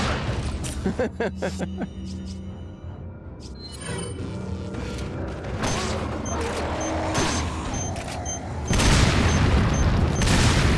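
Resident Evil 4 gameplay with loud gunshots and booming blasts, several sharp reports early on followed by rumbling explosions and mechanical clatter, with a brief spoken word mixed in.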